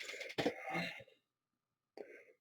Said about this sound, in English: I don't know why I've got a cough this morning.